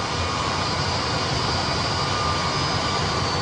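Airbus A320 jet engines spool up with added thrust while the airliner rolls onto the runway, a steady, dense roar with a high whine held throughout.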